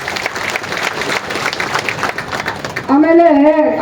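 Crowd applause at a village panchayat event in Agara, marking the donation of an ambulance, steady clapping that gives way near the end to a voice speaking over it.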